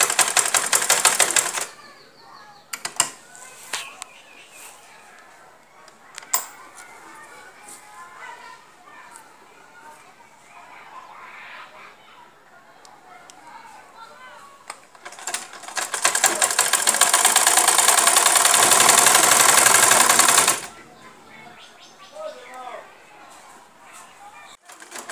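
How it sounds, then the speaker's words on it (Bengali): A sewing machine stitching a kameez runs in two loud whirring bursts, one brief at the start and a longer steady run later, with quieter handling clicks and someone talking in between. "আমরা সেলাই করব।"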